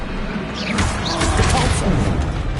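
The Confringo fire spell in Hogwarts Legacy bursts with a loud blast of rumbling, whooshing noise during combat, dense and continuous for the whole stretch, mixed with game sounds and voices.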